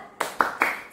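A school class claps a rhythmic cheer in unison, three crisp group claps spaced evenly, close and lively in a classroom.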